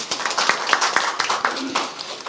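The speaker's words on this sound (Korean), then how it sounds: "박수 한번 보내주십시오." A crowd at a South Korean political rally claps for a candidate, a short burst of uneven hand claps with a few sharp individual claps, fairly close and fading toward the end.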